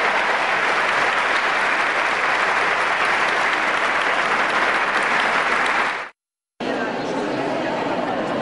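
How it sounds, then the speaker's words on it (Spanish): Applause from a large audience at a religious testimony gathering, a dense, steady wash of clapping that runs loud and continuous, breaks off abruptly for a moment, then resumes at full strength. "El aplauso para el Señor, la gloria es para Él."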